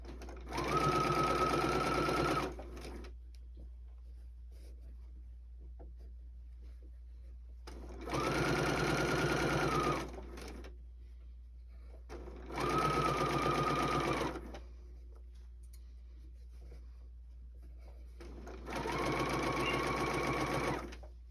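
Sewing machine top stitching a tea towel in four separate bursts of steady mechanical whirring, each lasting two to three seconds, with quiet pauses between them and no talk.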